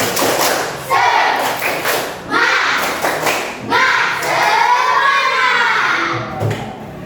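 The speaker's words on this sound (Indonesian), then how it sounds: "Namun sebelumnya kita tepuk semangat ya. Tepuk semangat." A school class performs a rhythmic spirit clap, a chant-like routine of patterned claps and thumps mixed with children's voices chanting along, loud and close throughout.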